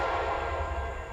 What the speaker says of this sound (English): This next train is Q045 with a SD70 Mac overhaul in the lead, and an SD40-2 in trail,